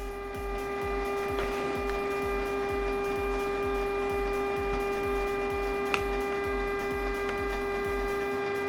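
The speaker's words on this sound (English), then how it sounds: "just waiting for the printer to be ready" A Canon inkjet printer warms up before printing, giving off a rapid, steady mechanical pulsing over a constant electrical hum with a few faint clicks, alone and fairly close.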